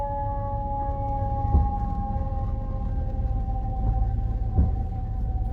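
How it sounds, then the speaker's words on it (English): An ambulance siren wails on a Chicago street, steady and fairly distant, over a low traffic rumble. "See, now you have an ambulance."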